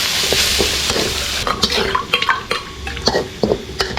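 Field rat meat stir-fried with wild holy basil in a wok, a loud sizzle with repeated scraping and clinking of the utensil against the pan, close and busy throughout.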